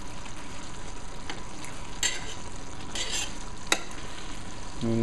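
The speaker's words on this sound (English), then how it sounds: "I'll just give them a little bit of a stir" Chicken thighs braising in a saucepan with bay leaves are stirred, giving a steady soft simmering hiss with a few scraping strokes of the spoon against the pan.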